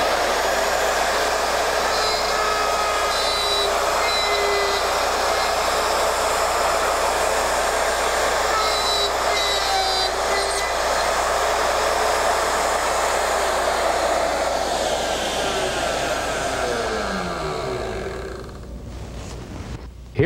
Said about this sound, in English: For this cut, there's no change in the setup of the router that we had for the half-inch